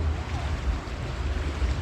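Water runs off a farm in a low, continuous rushing wash with some wind buffeting on the mic, heard close and moderately loud.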